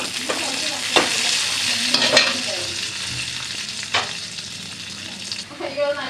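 Cardamom and other ingredients fry in hot ghee, a steady close sizzle with occasional stirring scrapes and clinks, no talking.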